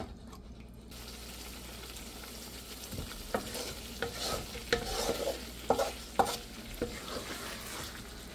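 Fried onion birista is tipped into a hot frying pan for a wedding-style chicken dish and stirred, with a steady sizzle under repeated scraping and clattering strokes of the spoon.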